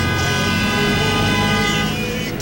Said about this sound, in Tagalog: Busina rito, busina roon.